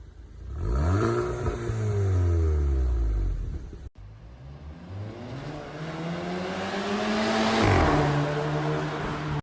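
Exhaust of a 2017 VW GTI with an aftermarket downpipe, close and loud, revving up and down in sweeping pulls, then a second rising and falling run with a crackling, airy tail.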